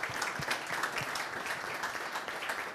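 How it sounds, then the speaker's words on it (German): Brief, even applause from an audience after a talk on company intranets, a steady patter of many hands clapping at moderate level with no voices over it. "Ich glaube, da gibt es erstmal einen Applaus"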